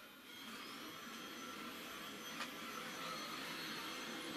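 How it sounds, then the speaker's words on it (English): Roborock Q5+ robot vacuum cleaning: a steady, whirring motor hum with a high airy whine, close and continuous, without talk. "As the vacuum is cleaning"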